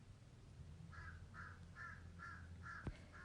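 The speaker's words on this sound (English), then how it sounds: "The crows are laughing outside my window" Crows caw outside a window, five or six evenly spaced harsh calls heard faintly from a distance over low room hum, with one sharp knock near the end.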